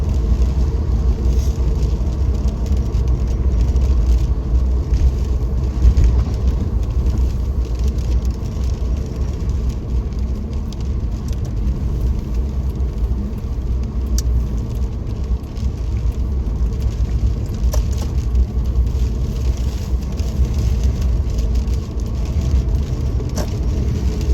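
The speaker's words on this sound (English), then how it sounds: "Traffic's building up a little bit more now." Road traffic on a wet rainy morning gives a continuous low rumble of passing cars and tyres hissing on damp tarmac, steady and fairly close, with no one speaking.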